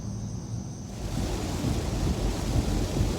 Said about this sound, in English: once again the rain has found me